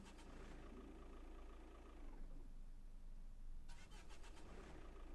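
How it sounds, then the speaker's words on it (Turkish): A Tofaş car engine in Euro Truck Simulator 2, a modded car built on a Mercedes E63 mod, cranks and starts, then settles into a low steady rumble, faint and alone. "Şimdi motoru bir çalıştıralım."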